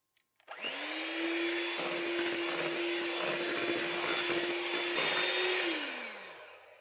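An electric mixer whirs steadily through brownie batter with milk in it, starting up abruptly and holding a constant motor whine for several seconds before winding down, alone and fairly close.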